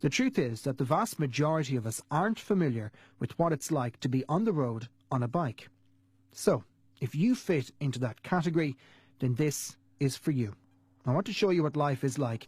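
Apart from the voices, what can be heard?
No everyday noises stand out.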